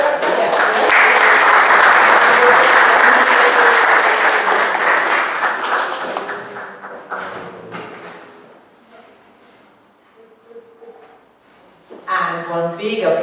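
Sustained audience applause at the close of the Goals for Mankind conference honouring Ervin Laszlo's 90th, loud and dense for about six seconds, then thinning into scattered claps and fading, with talk rising near the end.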